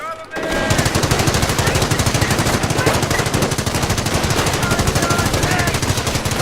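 Sustained rapid machine-gun fire and mixed gunshots from the Company of Heroes World War II strategy game, loud and dense throughout after a brief quiet opening.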